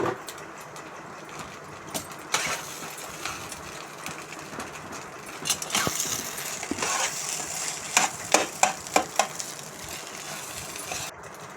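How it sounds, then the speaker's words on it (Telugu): Spices fry in a pan with coriander powder, a low crackling sizzle broken by scraping and clattering stirs that grow busier toward the end, moderately quiet, with no voices. "బాగా ఫ్రై చేసుకోవాలి."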